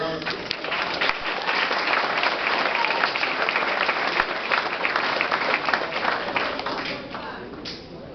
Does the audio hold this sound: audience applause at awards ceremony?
yes